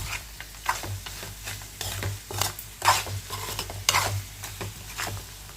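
Mango pulp and salt stirred in a pan, with a steady soft sizzle under repeated scraping, knocking spoon strokes at an uneven rhythm, close and fairly loud, no talking.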